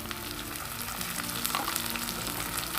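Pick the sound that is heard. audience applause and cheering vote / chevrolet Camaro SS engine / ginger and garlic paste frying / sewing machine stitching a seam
ginger and garlic paste frying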